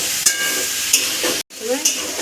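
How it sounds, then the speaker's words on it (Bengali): A vegetable curry for brown-rice vegetarian khichuri fries in a pan, with steady broadband sizzling broken by a few soft stirring scrapes and one brief dropout midway. "ভালো করে ভেজে নিতে হবে তরকারিটা।"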